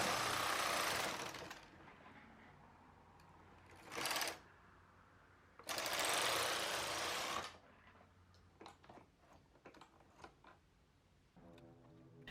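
A knitting machine carriage sweeps across rows of a racking pattern in loud whooshing passes, one long, one short and another long, followed by quieter clicks and mechanical ticks.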